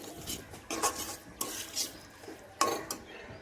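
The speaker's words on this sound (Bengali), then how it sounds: "কড়াইশুঁটিগুলো মশলার সঙ্গে মিশিয়ে নিচ্ছি।" Green peas are stirred into fried spices in a pan, with a spoon scraping and clinking against the metal in several separate strokes over a soft sizzle.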